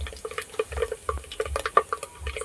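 Whole spices such as cinnamon, black pepper and dried red chillies are dropped into hot oil for tempering in a village cooking setting, giving close, irregular sizzling crackles and light stirring clinks over a low background hum.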